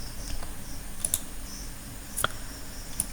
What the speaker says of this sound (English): So I will type here XO,